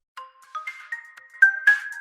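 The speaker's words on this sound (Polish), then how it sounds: "O, biskup dzwoni." A phone rings with a short electronic melody of bright rising tones, several quick notes that grow louder toward the end, heard up close with no speech.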